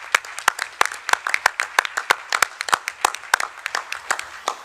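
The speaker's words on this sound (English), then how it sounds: "can we give our teachers a round of applause for that" Audience applause at a school board meeting for the district's teachers: dense, steady clapping from a roomful of people, sharp overlapping claps sustained throughout at moderate loudness.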